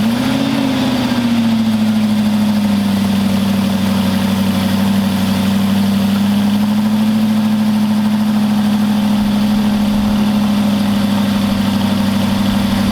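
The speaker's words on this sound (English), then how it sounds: "cold start." Aston Martin V8 Vantage on its stock exhaust during a cold start: a loud, close engine settling from a brief initial flare into a steady, deep, droning high idle that continues without a break.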